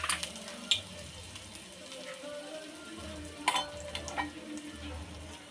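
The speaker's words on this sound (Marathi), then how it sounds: "परतून घ्यायची ही पेस्ट।" Ginger-garlic paste sautés in a little oil in a pan: a soft, continuous sizzle broken by a few sharp spatula clicks and scrapes from stirring, close and moderately quiet.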